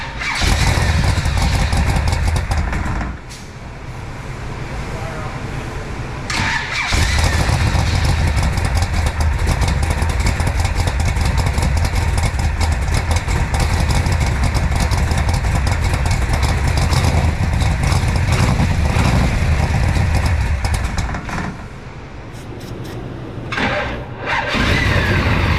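A 1965 Shelby Cobra with a 454 big block fires up on brake cleaner and runs loudly up close, rough rumbling revs with a couple of brief drops before roaring again.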